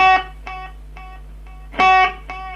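Guitar notes are plucked, and each one repeats in fading echoes at a steady interval; a louder strum midway echoes the same way.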